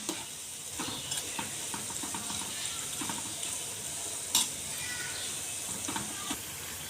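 Manchurian balls deep frying in oil give a steady, close sizzling hiss throughout, broken by a few faint clinks and one sharper knock.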